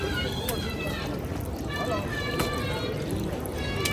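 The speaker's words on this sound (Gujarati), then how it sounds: "પાણી ઉપરથી આવે આમ જો ઝરણા જેવું આખું" Steady water runs and splashes down wet temple stone steps like a small stream, a constant near hiss beneath someone talking throughout.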